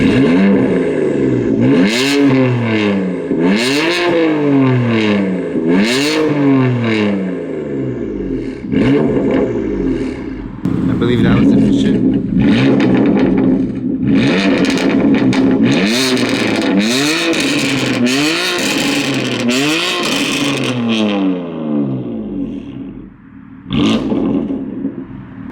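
A BMW M4 GTS and a G80 M3 rev their exhausts one after the other, with repeated loud rising and falling revs. Sharp crackles mark the throttle releases, and a few words are spoken.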